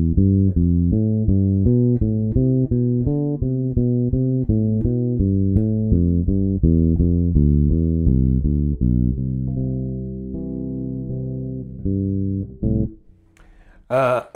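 A major scale exercise with each note approached from one scale tone below, played as a steady stream of clear, evenly spaced low-pitched notes, ending with a sustained note and a brief noise.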